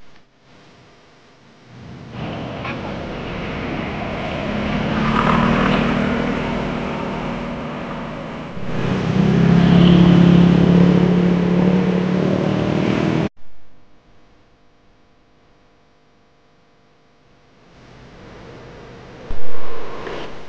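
Royal Enfield motorcycle engine on a long ride near Pili, Camarines Sur, heard as a loud, steady engine-and-wind roar that swells midway, cuts out abruptly, drops to near quiet, then surges back at the end.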